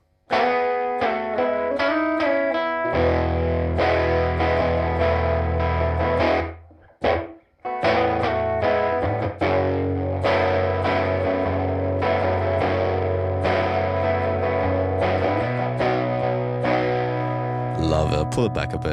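Electric guitar through a Universal Audio Woodrow 55 amp plugin, heard with room sound, playing sustained driven chords and notes with a brief pause in the middle, loud and close, with a voice faintly present.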